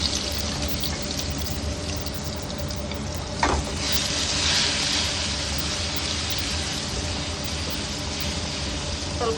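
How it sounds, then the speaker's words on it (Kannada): Ground green masala for a spicy Maharashtrian green mutton dish fries in hot oil with a steady close-up sizzle and hiss, briefly broken by a sharp clink and stirring. "ಸ್ವಲ್ಪ ಫ್ರೈ ಮಾಡ್ಕೊಳ್ಳೋಣ"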